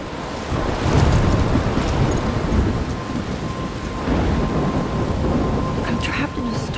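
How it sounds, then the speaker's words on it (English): A thunderstorm rages in the video game Life Is Strange, with heavy rain and deep rolling thunder forming a loud, dense roar that swells and eases throughout. "I'm trapped in a storm?"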